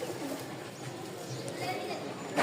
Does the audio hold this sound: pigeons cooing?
yes